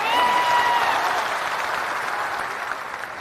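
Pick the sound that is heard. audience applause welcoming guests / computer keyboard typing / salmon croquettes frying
audience applause welcoming guests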